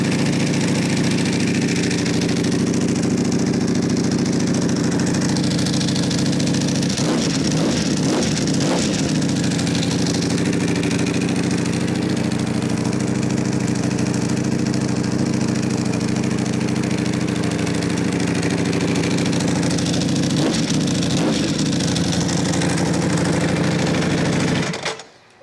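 A superbike motorcycle engine, kept under a dash protector, idles loudly and steadily for about 25 seconds, a rough continuous rumble with a few brief revs or bursts, then cuts off abruptly at the end.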